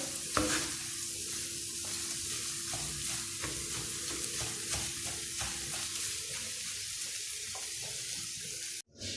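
Paella ingredients with raw, uncooked rice are stirred in a sizzling pan, a steady frying hiss under repeated scraping strokes of the spoon, ending in an abrupt clatter.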